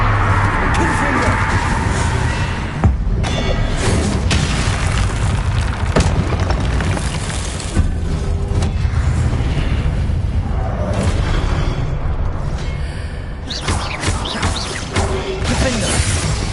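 A Confringo blasting spell goes off in Hogwarts Legacy, a loud, dense booming explosion with crashing whooshes that keeps rolling through the whole passage, with game sound layered beneath it.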